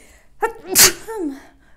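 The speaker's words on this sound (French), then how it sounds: "Excusez-moi, je vais éternuer." A single close, sharp sneeze with a quick inhaled build-up, then a brief voiced trailing sound, otherwise quiet.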